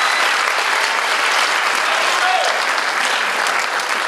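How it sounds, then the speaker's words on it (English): Steady, full applause from an audience at a senior honors night at a school, even and continuous for the whole stretch with no pauses. "Big round of applause for him."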